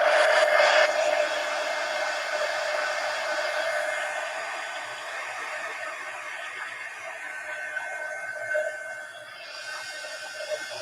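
Steady whooshing roar of a hair dryer blowing over a mixed media napkin journal page, continuous and close, with the airflow tone shifting slightly as it moves, no talking.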